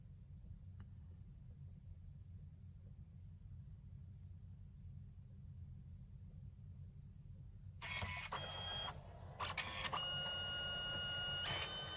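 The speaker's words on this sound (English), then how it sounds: "and then it's printing" A Canon Selphy CP1300 photo printer starts up after a long quiet stretch of low room rumble, then whirs and clicks mechanically as it feeds and prints.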